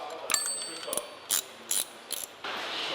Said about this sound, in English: Click. Pretty sweet torque wrench, Al. Super accurate